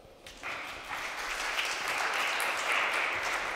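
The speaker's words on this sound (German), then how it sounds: "Bitte Applaus!" Audience applause at the Listen to Berlin Awards 2020 ceremony, starting suddenly and building into a dense, steady wash of clapping that fills the room until the end.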